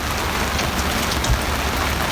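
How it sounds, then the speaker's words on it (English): Steady rain patters on a sailboat in the Bahamas, a dense, continuous hiss with close drops striking the deck and canvas, no voices. "It's raining."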